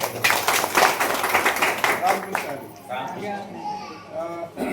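Group of people at a travel gathering claps for the next speaker, with brisk, uneven clapping for about two seconds before it gives way to chatter and voices.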